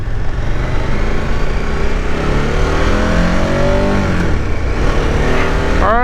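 A 2023 KTM 1290 Super Adventure S motorcycle on a demo ride, its engine droning loudly and steadily under heavy wind rush, with the revs rising and falling through gear changes and a brief sharp rev near the end.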